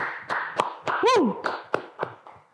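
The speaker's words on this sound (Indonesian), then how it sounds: "tepuk tangan dulu dong" A few people clap during a podcast recording, sparse separate claps and taps spaced through a couple of seconds, close and fairly dry, with a brief voice sound in the middle.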